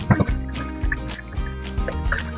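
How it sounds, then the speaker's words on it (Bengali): Water is poured into a kadai (wok) set on a gas flame, a short close splash and dribble with scattered drips. "এখন কড়াইয়ের মধ্যে দিয়ে দিচ্ছি পানি।"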